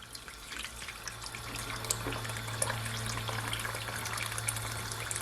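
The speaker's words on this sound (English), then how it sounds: "I'm gonna add some more of my water from my kettle" Hot water from a kettle pours steadily into a pot of cooking Jamaican oxtail. The flow makes a continuous soft splashing and trickling over a low hum in a quiet kitchen, with no one speaking.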